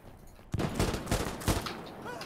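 Rapid gunfire in the shooter Insurgency: Sandstorm, a fairly near burst of several sharp shots cracking in quick succession, heard alone.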